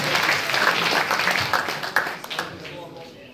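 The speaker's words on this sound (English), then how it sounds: "Let's clap for him, please." A hall audience at a university student association handover event claps for a newly sworn vice president, with steady dense applause that tapers near the end while voices carry over it.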